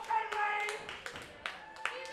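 A crowd at a women's wrestling match claps in a few sharp, spaced bursts while a voice talks over it, the applause moderately loud and somewhat distant.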